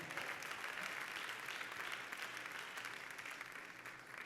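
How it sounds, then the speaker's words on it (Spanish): A church congregation applauds in a steady, dense wash of clapping that holds evenly throughout, fading slightly toward the end. "Alguien le da un fuerte aplauso al Señor"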